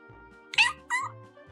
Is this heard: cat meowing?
yes